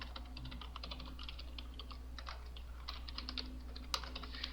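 Keys on a computer keyboard click in quick, irregular bursts as a net localgroup command is typed, soft and close over a steady low electrical hum, with no voice.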